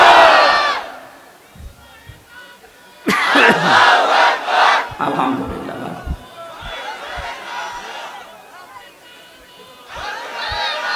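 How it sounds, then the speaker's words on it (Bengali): A large crowd at a rally roars a religious takbir slogan in unison, loud bursts of massed shouting after a leader's prompt, with an amplified voice calling between the chants. "যত শক্তি আছে সাড়ে পনেরো বছরের শক্তি এক জায়গায় করে বলেন লিল্লাহে তাকবীর"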